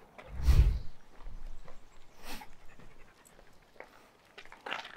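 A fearful, reactive Border Collie pants in a few short, quiet breaths close by. One louder huff comes near the start, followed by soft, scattered rustles.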